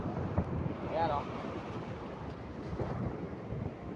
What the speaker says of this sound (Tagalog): Sobrang laki talaga ng mga alon, oh.